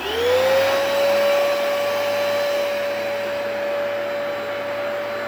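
A vacuum cleaner runs steadily and loudly with a high motor whine that rises as it spins up, then holds a constant droning roar with no talking.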